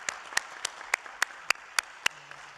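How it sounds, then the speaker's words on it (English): Sparse, evenly spaced clapping from a small audience at a Los Angeles County Board of Supervisors meeting, distinct individual claps ringing out at a steady pace over a quiet room. "let's give them another round of applause"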